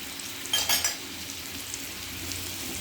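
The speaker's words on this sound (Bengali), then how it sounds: "এই জন্য আলুর সঙ্গে মশলাটাও ভাজা হয়ে যাবে।" Spice paste and potatoes fry and sizzle steadily in a pan, with a brief clatter of a spoon stirring near the start, close and continuous throughout.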